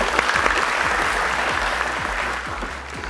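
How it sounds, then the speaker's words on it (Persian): Studio audience applauding on a Persian family quiz show's Eid special, a dense, steady wash of clapping that stays loud throughout and eases slightly toward the end, with low rhythmic thumps underneath. "خوب تشویق کنین"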